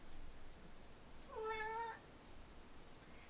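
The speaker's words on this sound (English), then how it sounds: "Sorry, that was my cat." A pet cat gives a single clear meow in the middle of a quiet indoor room, near and fairly loud, with only faint background hiss around it and no talking.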